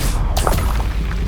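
In the video game Hogwarts Legacy, the Confringo blasting spell ends in a close, loud explosive boom with a quick crack, set over dense low rumbling battle ambience.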